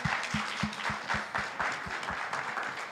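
A crowd at a Pathfinder club induction service claps in a steady round of applause lasting a few seconds, moderately distant and even in level, with low knocks underneath and no speech.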